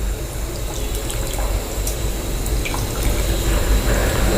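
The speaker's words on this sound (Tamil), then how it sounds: "இதை வந்து நான் வடிச்சிட்டு ஊற்றிக்கலாம்" Strained tamarind water trickles and pours steadily, a soft continuous splashing with faint drips, close by and without talk.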